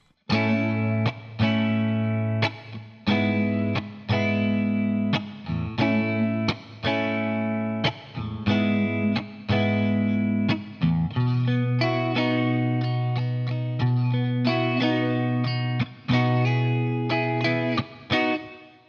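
Electric guitar strums the B section chord progression of a song with a driven, effected tone, steady rhythmic strokes ringing loud and full for the whole stretch, no talking.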